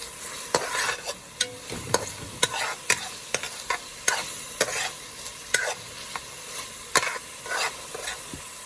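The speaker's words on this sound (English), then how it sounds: "So here in the pot, I'm sauteing the seasonings." Seasonings sauté in hot oil in a pot on a stovetop, a soft steady sizzle broken by repeated sharp scrapes and clacks of stirring at an irregular rhythm.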